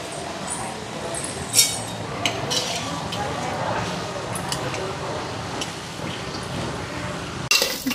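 A spoon stirs and scrapes moong dal frying with ginger, dried red chilli, panch phoron and cumin in a pan for khichuri, with soft sizzling, frequent metallic clinks and a voice talking faintly at times.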